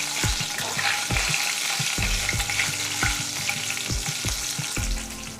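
Hot oil frying steadily with asafoetida just added, made in a pan for tomato pickle: a dense continuous sizzle with regular low knocks of a spoon stirring, close and loud, no voices.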